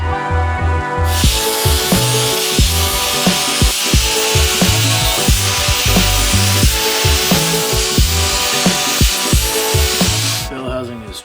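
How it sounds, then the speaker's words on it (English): A Sawzall reciprocating saw cuts along a metal plate in a loud, steady run with a rapid repeating stroke, ending in a brief pause. "along this line with a Sawzall as clean as I can"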